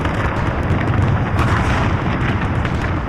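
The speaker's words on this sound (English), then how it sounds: "With over 150 cannon firing, met by about 80 Union guns in a counter-barrage, this is the largest artillery bombardment of the Civil War" A massive Civil War artillery bombardment at Gettysburg, with over 150 cannon and Union guns answering, rumbles as a continuous loud roar of overlapping booms and blasts.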